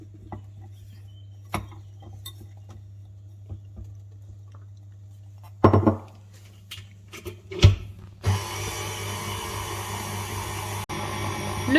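A food processor starts up near the end and runs with a steady whirring drone as it mixes brownie batter of melted chocolate and butter. Before it starts, scattered clinks and handling knocks sound over a low hum.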